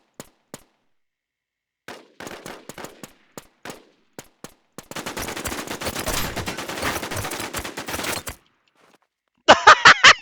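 Gunfire in the online shooter WarZ: scattered single shots and short bursts give way to a dense stretch of sustained automatic fire, then silence and a final loud sharp burst, with nobody talking.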